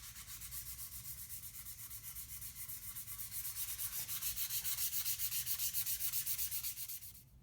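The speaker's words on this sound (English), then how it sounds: "I went back and scuff sanded the surface with 220 grit sandpaper." Steady back-and-forth scuffing with 220 grit sandpaper on a stained guitar carve top, a rhythmic rasping stroke repeated for several seconds, close and continuous, stopping near the end.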